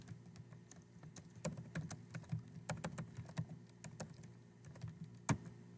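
Keystrokes on a computer keyboard come in short, irregular bursts of sharp clicks, quiet and close, with a faint low hum underneath and no talking.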